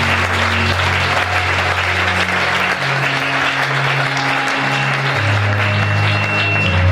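A church congregation applauding, with dense, continuous clapping that stays loud and steady throughout, with faint voices mixed in.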